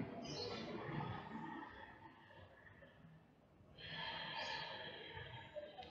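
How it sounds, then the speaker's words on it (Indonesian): Slow, long pranayama breaths close to the mic: a drawn-out airy inhale, a brief lull, then another long rushing breath, with no talking. "Tarik nafas dan buang nafasnya panjang."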